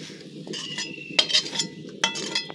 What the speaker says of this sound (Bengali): চলুন এটা এবার আমি এই সন্দেশ বানানোর ট্রেতে ঢেলে নিচ্ছি।